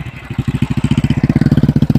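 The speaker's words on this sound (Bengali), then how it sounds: "এখন একটা বাইক যাবে পাউডার দিয়ে" A motorcycle engine chugs with a fast, steady low-pitched pulsing, loud and close, its rhythm quickening slightly as it moves past on a Teesta River sandbank.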